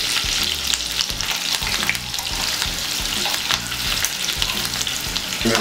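Chopped red and green chilies sizzle with cumin in hot oil for a Chicken Rogan Josh, a steady dense crackle with stirring scrapes throughout, close and fairly loud, no voices.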